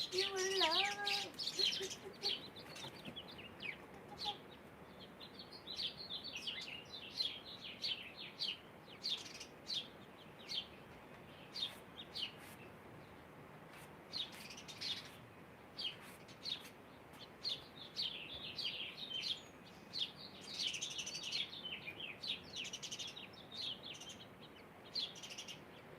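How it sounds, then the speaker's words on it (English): Birds chirping in a back area likened to an atrium, with repeated short tweets and calls scattered across the span, fairly faint against a quiet backdrop, and brief speech-like sounds near the start. "Sounds like an atrium back here. All the birds."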